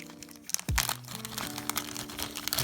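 Plastic packaging on a Kings of War Armada ship model kit crinkles and crackles as it is pulled open, busy close-up rustling with a sharp snap near the start.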